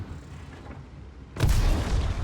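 In World of Tanks, a deep, heavy tank cannon salvo booms suddenly after a quiet, rumbling stretch, its low thunder filling the rest of the moment.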